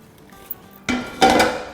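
Masala pasta scraped and served out of a cooking pot with a utensil, giving a few short clinking and scraping knocks of metal on metal, close and fairly loud, with no talking.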